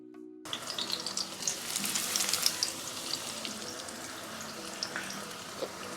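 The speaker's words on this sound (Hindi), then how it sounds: "ऑयल हमारा गरम है। ये इस तरीके से मैं अब पकौड़े ऐड करूंगी।" Battered corn pakoras are dropped into hot oil, setting off a bright crackling sizzle that swells as more go in, then settles into a steady fry with occasional pops.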